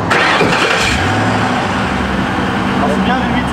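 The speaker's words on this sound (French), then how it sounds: "Quand le moteur est au ralenti, c'est assez discret, mais quand tu accélères." A V8 car engine cranks and fires, then settles into a steady, fairly quiet idle that rumbles close by, with a person talking over it.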